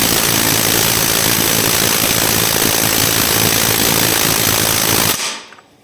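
A compact cordless impact wrench hammering on its second speed setting, giving a loud, continuous rapid rattling for about five seconds before it abruptly stops.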